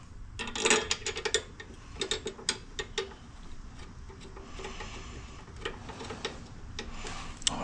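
A large wrench tightens the bigger bolts on a bike's brakes during a brake repair, giving a quick series of close ratcheting clicks and metallic ticks that come in bursts and then a steadier clicking run, with no voices.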